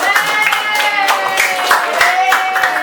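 A class of students claps in a quick, regular rhythm, the sharp hand bursts close and fairly loud, while voices sing or chant along over the beat.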